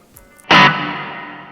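An electric guitar note runs through a Zoom MultiStomp MS-50G reverb set to zero pre-delay: one sharp, loud strike with the reverb tail blooming immediately and decaying smoothly.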